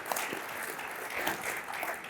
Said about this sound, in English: And okay, slow clap.